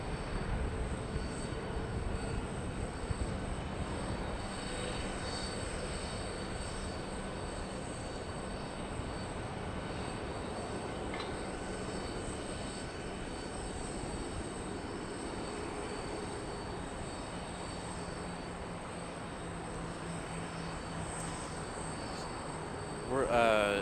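A plane at Charlotte Douglas International Airport: a broad, steady jet roar that stays level for over twenty seconds, with a brief louder swell right at the end.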